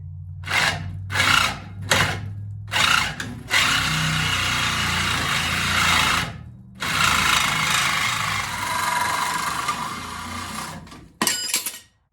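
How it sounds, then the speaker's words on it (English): A Sawzall reciprocating saw fitted with a metal blade cuts through a steel torsion swaybar, starting in short bursts and then running in long, loud, continuous rasping strokes before stopping. "I'm just using a Sawzall with a metal blade"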